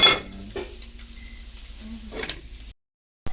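A lid clanks onto a pot of chicken tinola with sayote, a sharp metallic knock followed by faint rattles and a second light clink, then a short silence and another soft knock.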